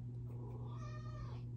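A cat meows once in a drawn-out, rising and falling call, close and clear over a steady low hum in a quiet indoor room.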